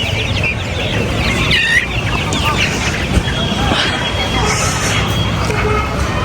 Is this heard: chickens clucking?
yes